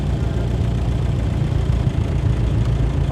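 A 1955 Ferguson 35 tractor engine idles in neutral, a steady low, rumbling chug at an even level with no other sounds over it.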